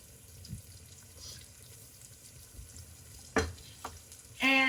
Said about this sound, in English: I'm gonna add 1 small onion, a little salt, crushed red pepper flake